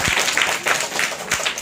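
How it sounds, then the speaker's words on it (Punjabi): A group claps for a child, a short burst of lively applause with several sharp, distinct claps standing out, heard up close. "ਤਾੜੀਆਂ ਮਾਰੋ ਇਸ ਬੱਚੇ ਦੇ"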